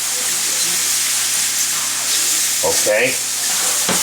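Mushrooms sauteing in a pan give a steady, close, even sizzle throughout, with a voice briefly speaking over the frying near the end.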